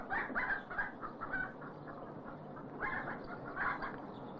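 White Leghorn chickens on a 1960s Danish farm clucking at feeding time, a faint cluster of overlapping short calls that comes in bursts, fades, then returns.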